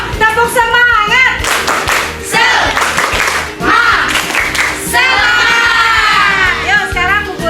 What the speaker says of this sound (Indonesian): Sebelumnya kita tepuk semangat dulu yuk.